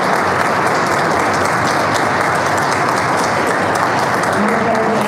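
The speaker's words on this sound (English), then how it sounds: "Please join me in a round of applause for our team." Sustained applause from an audience at a congressional public policy briefing for a panel team, a dense, steady clatter of many hands lasting throughout, loud and close with no pauses.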